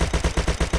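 Automatic gunfire from a weapon in the video game Unturned rattles in a quick, evenly spaced burst of about seven loud shots, close and sharp.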